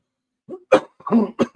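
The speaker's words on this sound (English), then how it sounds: "I was getting ready to cough" A single short, close cough, followed by a couple of quick throat-clearing sounds.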